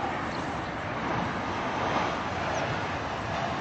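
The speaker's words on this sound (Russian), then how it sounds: "Обратите внимание, самолеты летят очень низко." Low-flying airplanes passing near Adler airport, a steady broadband roar of jet noise that holds evenly throughout, fairly loud and without speech.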